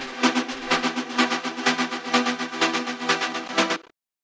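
A Serum software synth plays a bright, rhythmic pulsing pattern of even repeated notes for nearly four seconds, then stops cleanly, loud and alone with no voice.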